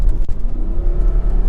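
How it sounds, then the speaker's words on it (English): A 957 Porsche Cayenne 4.8L V8 with a rough-acceleration fault pulls at full throttle in 4th gear from about 1800 rpm, giving a loud, steady, close engine drone with a brief bump. "4th gear, 1800 RPMs, pedal to the metal."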